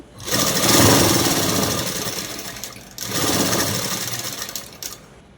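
A sewing machine runs loud and close as it stitches cloth for a dress, giving a steady whirring drone in two long runs separated by a brief pause.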